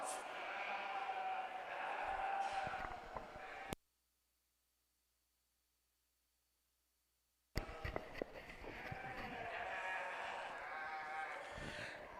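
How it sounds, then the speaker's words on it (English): Late spring ewe lambs bleating at a junior breeding sheep show at the Colorado State Fair, repeated bleats amid crowd murmur and arena bustle, broken by a few seconds of total silence before the noise resumes. "Late spring ewe lambs born in February or March 2025."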